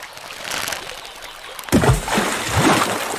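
Water flows in a video game, first as a soft, faint hiss, then a louder, close gurgling trickle with splashy surges that starts abruptly partway through.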